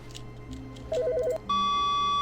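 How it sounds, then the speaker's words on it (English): An office telephone rings in The Stanley Parable, starting as a short warbling electronic trill and then changing to a steady, loud beep tone. Faint background hum runs underneath, with no talking. "Oh, the phone's going."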